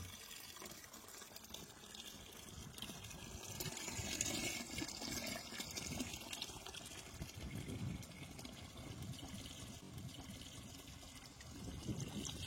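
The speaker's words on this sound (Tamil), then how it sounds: "இப்போ நம்ம 4 லிட்டர் தண்ணி வந்து மிஸ் பண்ணுறோம்." Water poured into waterproofing compound while it is being mixed, about four litres going in, a steady trickling, gushing wash that carries on at an even level for the whole stretch, fairly near and with no voices.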